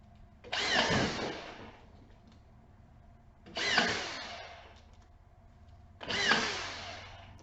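Cordless drywall screw gun with push drive driving screws into drywall: three separate bursts of whirring motor and screw driving, each lasting about a second, spaced a few seconds apart, fairly close and quiet with no talking.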